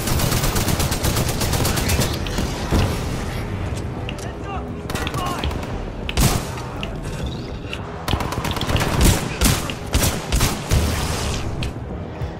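Rapid, dense automatic fire from the Spitfire machine gun in Titanfall 2 sounds loud and continuous throughout, with booming impacts and sharp cracks layered over the shooting.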